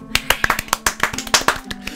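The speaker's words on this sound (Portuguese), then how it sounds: "Palmas." Hand claps in a loose, uneven rhythm, about a dozen sharp close strikes over a couple of seconds, with a low steady hum underneath.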